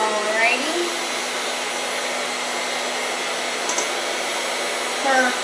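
An electric mixer whirs steadily while mixing pizzelle batter with melted butter, a continuous close motor drone that holds evenly for the whole stretch.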